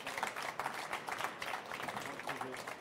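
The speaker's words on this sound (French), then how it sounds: "Merci monsieur, on vous applaudit." Audience applause at an award ceremony for the Sirha 2015 innovation prize, steady mid-level clapping from a crowd running throughout the clip.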